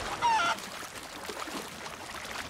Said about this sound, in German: Guck mal, ich habe schon den Huhn.